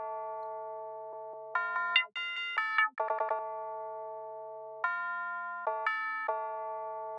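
A tubular bell in a trap beat rings out in clear, sustained metallic tones, struck in short melodic phrases with several notes in quick succession, loud and alone with no voice.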